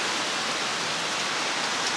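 Heavy rain falls at Sabangan Campsite in Malaybalay, Bukidnon, a close, even, dense hiss with no pauses across the whole stretch.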